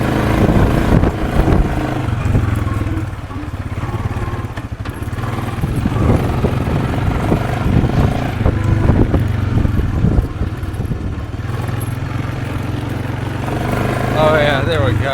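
A low-hours four-wheeler ATV bought broken runs up through its gears, the engine loud and close, revving and dropping in uneven surges with clattering mechanical noise, while people talk intermittently.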